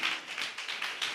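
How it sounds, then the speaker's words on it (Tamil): A church congregation claps hands together in thanks, a brisk, even run of bright claps in a steady rhythm, loud and close with no voices. "நல்ல கைத்தட்டி ஆண்டவருக்கு நன்றி சொல்லுங்களேன்"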